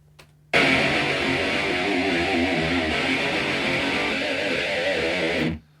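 Harsh, heavily distorted electric guitar through a compressor and Amplitube amp simulator rings out alone for several seconds, bright and buzzy with little low end, then cuts off abruptly.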